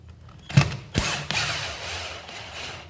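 A power drill backs a temporary screw out of a roof stringer, a close whirring burst with ratcheting mechanical grind that starts abruptly and then runs on more steadily.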